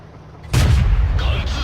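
A Japanese tank's main gun fires a single heavy boom in World of Tanks, followed by a rumbling decay with a faint metallic echo.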